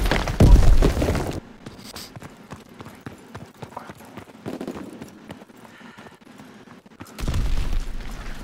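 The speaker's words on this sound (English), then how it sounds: "Oh, he hit me with a grenade, Roma." A grenade blast in the World War II shooter Call of Duty: WWII: a loud, heavy burst opens the clip, quieter clattering battle noise follows, and a second loud rumble of explosion noise rises near the end.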